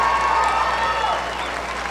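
A crowd in the arena at a cutting horse Futurity non-pro event applauds and cheers after a winning run, a steady wash of clapping heard from a distance with faint voices mixed in.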